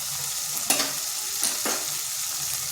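Noodle mixture with tomato, turmeric, chili and coriander powder frying in a pan, stirred steadily under a constant close sizzle, with a few sharper spoon scrapes standing out and no talking.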